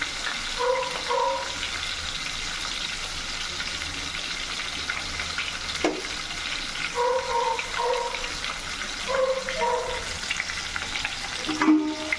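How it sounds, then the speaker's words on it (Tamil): Onions sizzle in hot oil with spices for a Chettinad chicken gravy, a steady crackling fry with occasional stirring scrapes and a brief clank near the end, no one speaking. "வாசனை பொருள் போட்ட உடனே வெங்காயம் ஆட் பண்ணிடணும்"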